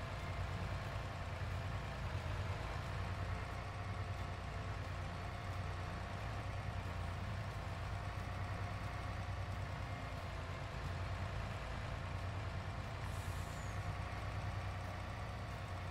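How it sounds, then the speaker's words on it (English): A fire truck in Farming Simulator 22 idles with a steady, low, continuous engine drone throughout, and a short hiss like an air brake release comes near the end. "This is the fire truck."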